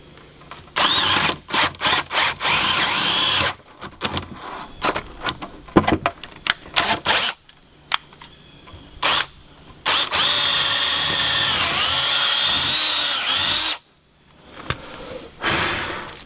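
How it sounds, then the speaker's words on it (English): Power drill boring holes to attach wood to concrete, loud close whirring bursts of varied length, some short and stuttering, others long and sustained, separated by brief quiet gaps. "So we'll just keep using that drill bit for the rest of these."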